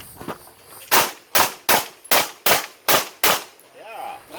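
Seven crisp pistol shots from an STI Edge at an outdoor USPSA shooting match at a Florida rifle and pistol range, fired in a fast, fairly even string, loud and close.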